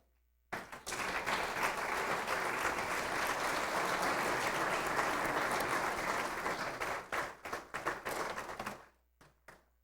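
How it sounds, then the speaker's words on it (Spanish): A church congregation at a sermon gives a strong round of applause, dense clapping that starts abruptly, holds for about eight seconds, breaks into scattered individual claps and stops, leaving a few last isolated claps. "le pueden dar un fuerte aplauso al Señor"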